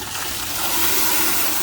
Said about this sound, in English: turn the water on there